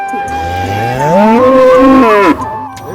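A single cow gives a long, loud, close moo at a busy rural cattle market, its pitch rising and holding before dropping off at the end.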